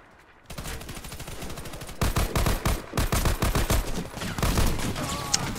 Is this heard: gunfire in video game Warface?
yes